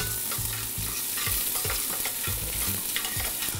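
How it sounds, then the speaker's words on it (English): Onions and garlic sweating in oil as the pan is tossed, a loud, continuous sizzle with rhythmic scraping and shuffling of the food across the metal, close up and without speech. "We're going to sweat these onions."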